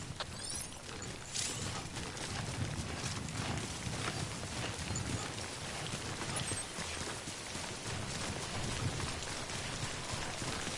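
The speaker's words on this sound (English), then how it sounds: "Don't stay out in the rain any longer than you have to." Steady rain, the timefall of the video game Death Stranding, pours down with dense patter on surfaces and a few heavier thuds mixed in, filling the whole stretch at an even level.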